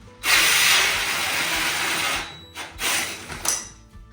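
A power drill revs loudly and steadily for about two seconds, then cuts out and gives several shorter bursts, heard close up with no talk.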